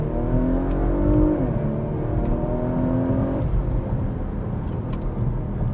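A Porsche Macan Turbo SUV, a roughly 4,500-pound car with a PDK gearbox, accelerates hard in second gear, its engine note rising steadily in pitch, loud and close throughout with no pauses.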